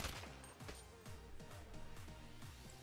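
Gunfire from a weapon in the video game GTA 5: a few sharp, punchy shots ring out over a steady, bass-heavy game soundtrack.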